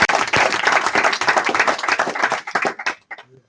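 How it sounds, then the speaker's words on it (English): Audience clapping at a pop group event, a dense burst of claps that stays loud and steady before thinning out and fading in the last half second. "No, y'all ain't clapping loud enough for that."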